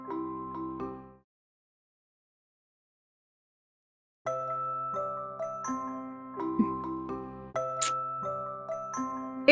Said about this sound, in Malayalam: കോളിംഗ് ബെൽ അടിക്കുന്ന കേൾക്കുന്നുണ്ടോ ഇല്ലയോ?